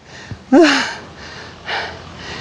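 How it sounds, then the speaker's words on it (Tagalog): Heavy breathing from someone out of breath after climbing up above Marcos Highway: a sharp, loud gasping intake is followed a moment later by a softer, breathy exhale, close to the mic. "Hingal ako talaga"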